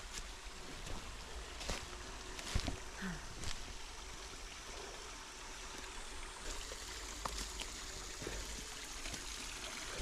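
A small waterfall in a mountain stream gives a continuous rushing, splashing flow, steady and fairly close, with occasional brief knocks over it.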